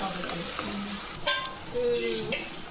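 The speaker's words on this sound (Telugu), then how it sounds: "కొంచెం ఫ్రై అయ్యేదాకా వేయించుకుందాం." Ingredients for a prawn egg curry frying and being stirred in a pan, a steady sizzle with scraping and clattering of a utensil, close up, no talking.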